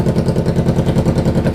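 Kawasaki Ninja 300 motorcycle engine idling through a straight-pipe exhaust, loud and close, with a steady rhythmic low-pitched throb pulsing evenly throughout.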